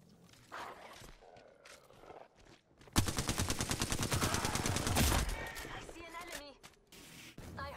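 Apex Legends gunfire fills a tense firefight: a rapid burst of loud shots lasts about two seconds, with scattered softer shots and movement before and after, and voices talk underneath.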